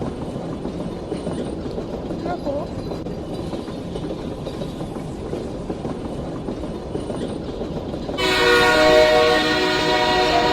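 Paris-style metro train limited to 50 km/h running steadily on its rails with a continuous low rumble, joined near the end by a louder tonal whine as it accelerates; a person speaks briefly over it.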